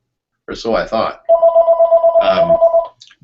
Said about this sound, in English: I should turn off the phone, shouldn't I?